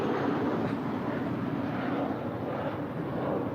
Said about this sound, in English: That is Japan Airlines Flight 8061 departing there on the north side to Tokyo Narita.